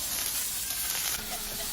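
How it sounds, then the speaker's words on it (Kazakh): Finely chopped onions frying in hot oil in a pan, giving a steady, dense sizzle that stays even and close throughout. "Тағамымызды қыздырып, оның үстіне ұсақтап тураған пиязымызды салып қуыратын боламыз."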